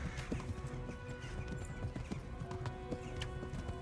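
Hooves of a horse in a medieval combat video game clip-clop in a quick, steady rhythm, quiet and mixed with soft neighing and game ambience.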